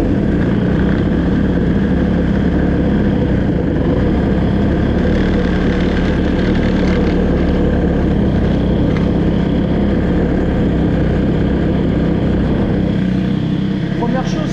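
A moped fitted with an Airsal T6 65cc cylinder and a boost cylinder head runs loud and close with the throttle held open, because it will not hold idle. The engine drone is continuous and unbroken.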